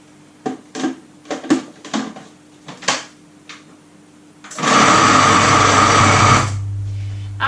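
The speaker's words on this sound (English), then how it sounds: "we're gonna blend this until it's uniform, even. We might need to scrape the food processor a couple of times" A food processor blends an okara mixture for a gluten-free vegan roast in one loud whirring burst of about two seconds. Several short knocks and clatters come before it, and a low hum lingers afterward.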